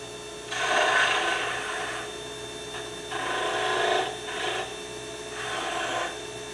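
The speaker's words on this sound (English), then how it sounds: "So at this point, I would go ahead and sand the edges." Sandpaper of 400 grit rubs the edges of a wood ornament being turned on a lathe, in four soft rasping strokes of about a second each with brief pauses, faint and close over a low steady hum.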